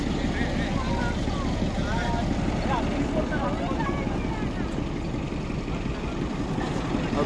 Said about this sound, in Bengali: এই দেখুন, এটা হচ্ছে ডিজেল ইঞ্জিন।